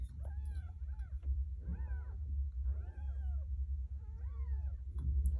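A female stray cat meows insistently, four drawn-out, rising-and-falling meows spaced about a second apart, close by over a steady low hum.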